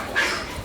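A young American Bully dog gives a single short, faint yip or whimper, a brief high sound in an otherwise quiet moment.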